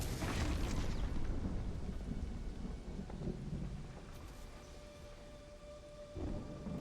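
A thunderstorm in the Lego Fortnite video game gives a deep, loud rumble of thunder that rolls on and slowly fades across several seconds, with rain-like hiss and low booms under it.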